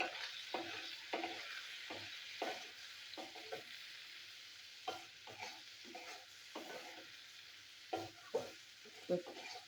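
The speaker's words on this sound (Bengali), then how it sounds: "একটু ভাজা ভাজা হোক।" Papaya pieces fry in a pan with salt and turmeric, a soft low sizzle broken by repeated stirring scrapes and clinks at an irregular rhythm, close and fairly quiet.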